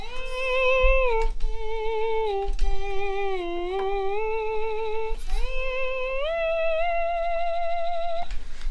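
Electric guitar played with a slide through a volume pedal, notes swelling in without pick attack and gliding between pitches to mimic a bowed string instrument, sustained and smooth over a steady low hum.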